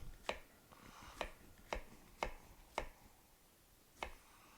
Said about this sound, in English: And yes, Scott, I'm using my Cutco knife